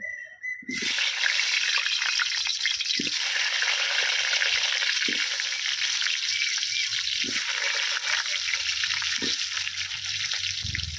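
Potatoes hitting hot mustard oil in a pan, a continuous loud sizzle and crackle beginning abruptly and holding steady, with occasional soft clinks and stirring bumps.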